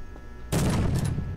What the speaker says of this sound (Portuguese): Você tá zoando que eu vou plantar a bomba na porta